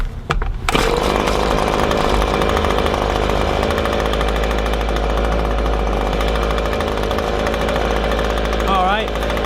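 An Echo leaf blower's two-stroke engine runs wide open at full throttle while being tuned for bogging and lack of power, a loud, close, steady buzzing drone lasting the whole stretch after a brief start-up, with no voices.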